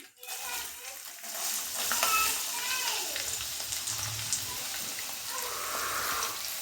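Onions and whole spices frying in hot oil for a mutton curry, crackling with a steady, fairly loud sizzle while being stirred, with a few clattering knocks through it.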